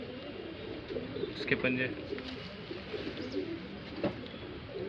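Shahjahanpuri breed pigeons coo in low rolling phrases close at hand, beneath someone talking, with a steady hiss of background noise throughout.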